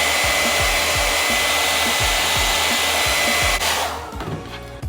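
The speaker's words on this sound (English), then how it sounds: "I'm gonna go ahead and hit it with my blow dryer" A handheld blow dryer blows on gold flake adhesive applied to a mug, producing a loud, steady whooshing hum with a rhythmic pulsing, then easing off near the end.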